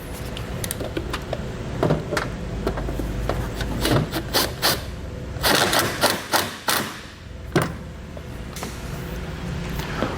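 A ground stud is tightened on a 2021 Chevrolet with a series of quick metallic ratcheting clicks and taps, close and irregular, bunched into short bursts without talk.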